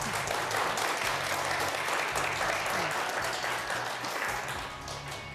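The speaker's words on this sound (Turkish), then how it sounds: "O zaman bir kuvvetli alkışlayalım efendim." A studio audience on a Turkish word game show applauds in a loud, dense, steady burst of clapping that tapers slightly at the end, with no talking over it.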